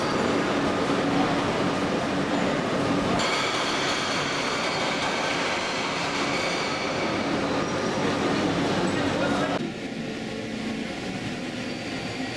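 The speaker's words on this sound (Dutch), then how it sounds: "En hier kunnen we nog eens fijn de toonladder horen, die de locomotieven uit de serie 1016 en 1116 produceren bij het aanzetten." A class 1016/1116 electric locomotive starts off, its traction hum stepping through a rising tonal scale over loud, continuous rail rumble that drops slightly near the end.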